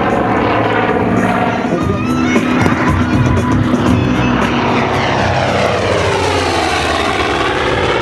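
A Skyraider propeller aircraft at the 2008 La Ferté-Alais airshow roars loudly overhead, its droning engine note rising and then sweeping down in pitch as it passes close by.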